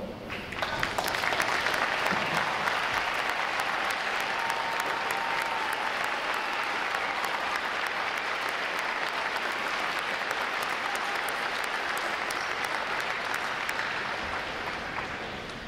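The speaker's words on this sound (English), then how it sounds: "For all our veterans, please stand so we can give you a round of applause." Sustained applause from a large audience honoring standing veterans at a U.S. Navy recruit training command graduation ceremony, steady and dense for the full stretch before gradually tapering at the end.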